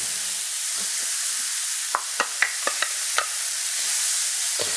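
Diced shallots sizzling in a hot pan, a steady bright hiss with a handful of sharp pops and utensil taps in the middle, close and alone.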